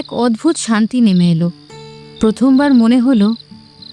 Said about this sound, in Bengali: চারপাশে শুধু ঝিঝি পোকার ডাক